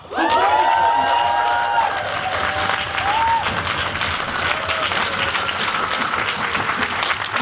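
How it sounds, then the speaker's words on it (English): Audience at a 2018 lecture event bursts into loud, sustained applause with some cheering, the clapping continuing steadily throughout. "can we make up some noise for Brother Leon?"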